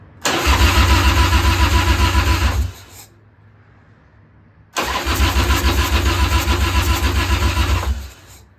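A 1993 Harley-Davidson Softail motorcycle, with its carburetor being set up, fires and runs loudly with a deep, steady throb close by, cuts off for a couple of seconds, then starts again and settles back into an even idle.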